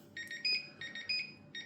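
A Siemens iQ700 washing machine sounds its end beep at a low volume setting, a series of short electronic beeps in a repeating pattern, faint and clear with no talking.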